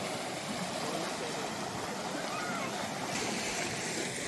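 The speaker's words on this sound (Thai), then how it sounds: "สวยมากลำธาร คามิโกจิ" A mountain stream in Kamikochi, Japan rushes in a steady, dense watery hiss, close and continuous, with no pauses throughout.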